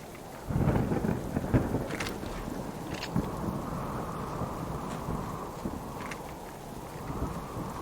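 Rain and a thunderstorm in the survival video game Subsistence: a low rumble of thunder rolls in early and lingers beneath steady, hissing rainfall that continues throughout, with no voices.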